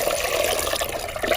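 Water pouring steadily into a pot of washed toor dal with salt and turmeric powder for sambar, a continuous close splashing fill with no talk.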